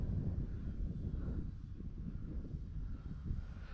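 A Skynetic RC airplane, hand-launched with a forward push at about three-quarter throttle, drones steadily in flight, its motor hum holding at a fairly constant, moderate level with no voices.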